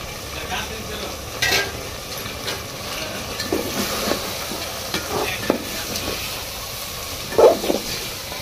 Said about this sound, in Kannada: ಹಾಕಿ ಸ್ವಲ್ಪ ಹೊತ್ತು ಮಿಕ್ಸ್ ಮಾಡನ್ರಿ